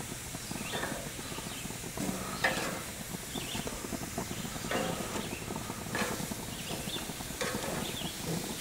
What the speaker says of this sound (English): you hear that sizzle? That's what we want.